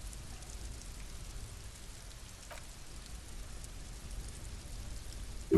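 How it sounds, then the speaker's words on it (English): Steady rain in the video game Disco Elysium patters on surfaces in a soft, continuous wash with no voices or other sounds standing out. "Under the grey sky, the neighboring windows are streaked with rain."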